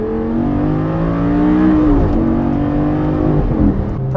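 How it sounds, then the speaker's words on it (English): A 2012 Lamborghini Gallardo LP550-2's V10 engine with E-gear transmission revs loud and steady from close by, the pitch rising and then dipping, with no talking. "One thing that will always be good though is that glorious V10 engine,"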